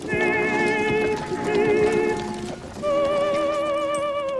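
A horse whinnies in drawn-out, wavering calls over soft clip-clopping hooves, with a brief pause midway before another neigh.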